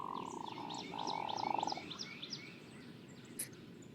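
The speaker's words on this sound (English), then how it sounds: "So that's the hooded merganser display sound" Hooded merganser display call, a low frog-like growling croak repeated in a rapid series, with chirping marsh birds and a steady background of ambient noise.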